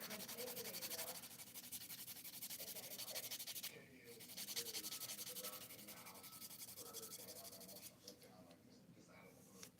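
Fingernails are filed with a hand file, a continuous close rasping scrape in rhythmic strokes, with a brief pause partway through.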